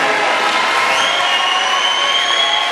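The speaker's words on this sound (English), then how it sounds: "Let's give a big round of applause" A crowd at a 2013 senior night boys basketball event gives loud, continuous applause, a dense wash of clapping with faint cheering that holds steady throughout.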